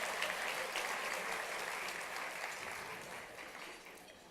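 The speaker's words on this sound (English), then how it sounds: "Let's get a big round of applause for all of the sponsors one more time." A gala audience applauds the sponsors with a steady wash of clapping in a large room, heard from some distance and tapering slightly toward the end.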